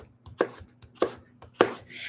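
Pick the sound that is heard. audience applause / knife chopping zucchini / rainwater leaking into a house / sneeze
knife chopping zucchini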